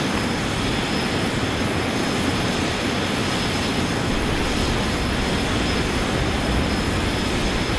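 Bombardier CRJ700 jet engines in Microsoft Flight Simulator X, a constant loud broadband cabin roar with a thin high whine, unchanging throughout and without any voices.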